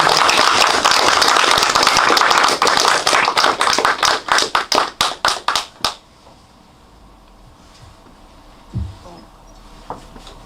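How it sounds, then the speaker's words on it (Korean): Dense applause from a church congregation during a Thanksgiving testimony, building then thinning into scattered claps before stopping abruptly, followed by quiet room noise and a soft thump. "박수 한번 쳐주세요"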